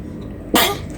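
A child sneezes once, a single sharp burst mid-clip, close and loud against a quiet room, shortly after a gymnastics or parkour session.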